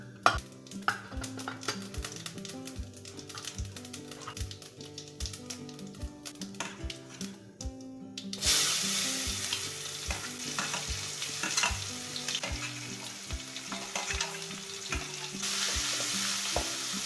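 Poha ingredients fry in a pan, a continuous sizzle carrying rapid rhythmic tapping of a spoon against the pan, the hiss swelling louder partway through.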